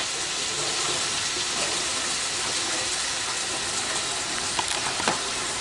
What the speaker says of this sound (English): I'm going to wash my nasty hands